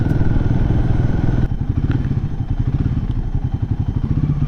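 A Royal Enfield Himalayan 450 motorcycle engine while riding, a steady loud pulsing drone with a rough, vibrating throb and slight shifts in pitch, close and continuous throughout.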